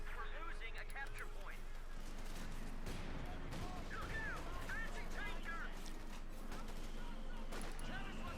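Battle in the strategy game Company of Heroes 2 with repeated gunfire and explosions mixed under a busy soundscape, with bursts spread across the clip at moderate loudness.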